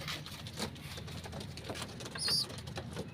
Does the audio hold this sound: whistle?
no